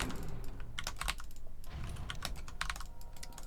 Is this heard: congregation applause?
no